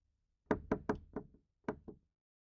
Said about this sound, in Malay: jika ada seseorang mengetuk tingkap kereta